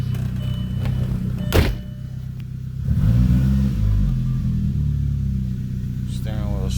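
An Audi A4 B5 backs up with a low, steady engine rumble throughout, a brief sharp sound early on and a slight rise in engine note partway through, with a person talking over it.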